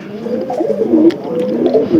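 Domestic pigeons coo softly and continuously at close range while being fed, low throaty calls overlapping with no talk.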